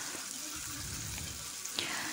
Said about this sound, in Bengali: তার মধ্যে দিয়েছি পেঁয়াজ কুচি আর কাঁচা লঙ্কা, এটা ভালো করে একটুখানি ভাজা ভাজা হয়ে যাবে